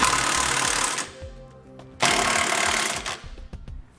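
Tightening Curt trailer hitch mounting hardware on a 2008 Chrysler Town and Country with a power tool, two loud bursts of ratcheting or impact-style buzzing separated by a pause, with clinking sounds between them.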